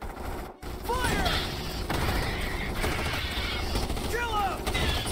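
Trooper gunfire in the Starship Troopers Terran Command video game: steady, dense rattling volleys of rifle fire with shrill insect screeches rising over the top, loud and continuous after a brief break near the start.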